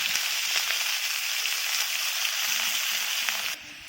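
Potatoes fry in hot oil for cauliflower-potato dum with a steady, bright sizzle that continues evenly before quieting at the very end; no talking.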